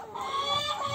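A rooster on a farm in Ingushetia clucks up close in a short, continuous burst of throaty calls with no talking.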